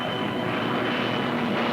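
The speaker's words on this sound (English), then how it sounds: "fighter planes from Gibraltar, fitted with extra fuel tanks, took off" Fighter planes fitted with extra fuel tanks taking off from Gibraltar in wartime, a steady loud engine drone filling the whole stretch without a break, with no voices over it.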